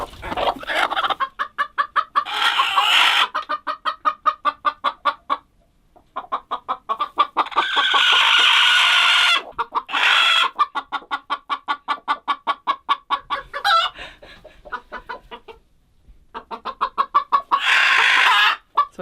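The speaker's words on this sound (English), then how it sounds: "These are chickens that we raised as chicks, and this is a chicken that a mom chicken raised" Flock of chickens, including hen-raised and brooder-raised birds, clucking steadily and close in a coop, with rhythmic bursts of chatter and occasional louder squawks rising over the continuous calls.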